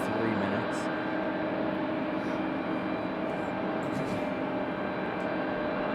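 A Delta Airlines Airbus A220 taxis out, its engines giving a steady, broad roar and whine that stays at an even level throughout, with a voice talking faintly over it.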